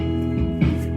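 An E barre chord strummed on guitar, a single sustained chord ringing for about a second with a slight swell midway.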